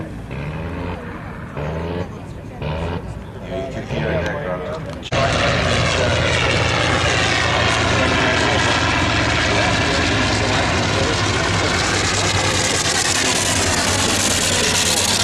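Voices talk over a quiet background before a vintage Nieuport aircraft engine at the Warbirds over Wanaka 2008 airshow roars to life as its magnetos are switched on, then runs loud, steady and close for the rest of the clip.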